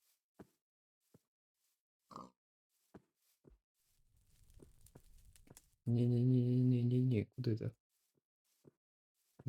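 A pig in a survival video game lets out one loud, drawn-out grunting squeal up close, preceded by scattered soft knocks and footstep-like taps over a quiet background.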